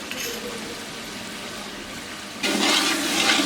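Water is poured into a pot of chicken korma with onions and spices, giving a steady rushing, splashing liquid sound that surges louder partway through, with no talk.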